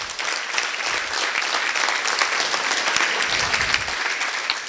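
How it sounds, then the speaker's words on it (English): Sustained audience applause at a fall Republican dinner in Monticello, Iowa, steady and fairly loud throughout with dense overlapping claps from a large room, no talk over it. "let's give our speakers another round of applause"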